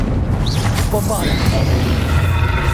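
Bombarda explosion spell cast in the Hogwarts Legacy video game, a heavy booming blast over dense, continuous battle effects and whooshing magic noise throughout.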